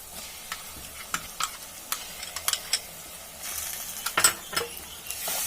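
Ground spice paste with mutton masala and red chilli powder stir-fried in a pan, with soft steady sizzling under sharp scraping strokes of a spoon, and the frying hiss swelling louder toward the end.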